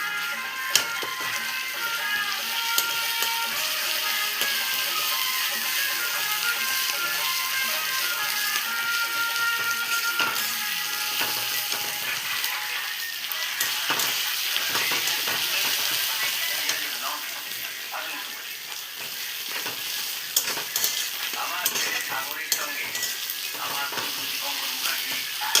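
Ginger and garlic paste sizzling and frying in a pan, steady bright crackle with stirring clatter throughout, a voice talking intermittently over it.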